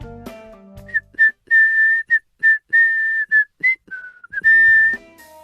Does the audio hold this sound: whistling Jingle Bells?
yes